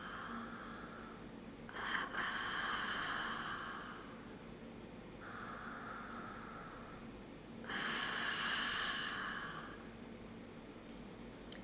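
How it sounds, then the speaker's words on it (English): Slow ujjayi breathing through the nose with the mouth closed, audible as long, soft, airy inhales and exhales that swell and fade in a steady rhythm, close and quiet with no talk. "And then continue with the mouth closed, breathing through the nose."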